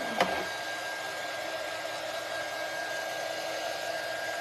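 A hair dryer blows steadily and loudly throughout after a short click at the start, with no talking.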